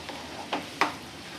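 Ivy gourd (tondli) sizzles faintly in a pan as a spoon stirs it, giving two or three soft scraping strokes over a low, steady frying hiss.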